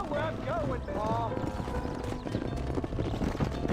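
Horse hooves clip-clopping in Red Dead Redemption, a steady run of hoof beats heard under a man's speech and a whinny-like call near the start, continuing through the whole stretch.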